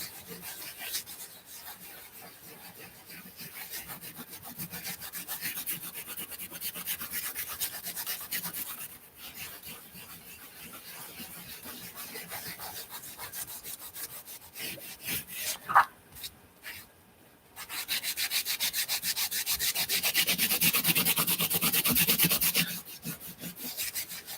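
Tissue buffs a paint-covered art masterboard with close, scratchy rubbing strokes that come in uneven bursts, growing louder and denser toward the end before stopping.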